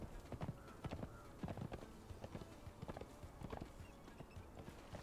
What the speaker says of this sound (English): So we're gonna hop off the horse